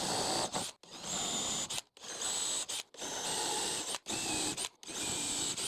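A power drill boring dowel holes into a 2x10 board, whining in five or six short bursts separated by brief silences, each burst loud and close with a grinding, ratcheting edge.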